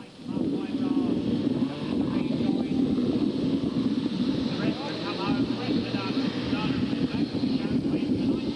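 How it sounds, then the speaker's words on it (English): Heavy rain and gusting wind lash a motor racing circuit at Skegness during a 1994 saloon car meeting, a continuous dense roar filling all of the clip with a voice faintly audible beneath it. "with the rain coming belting down from the Skegness sky"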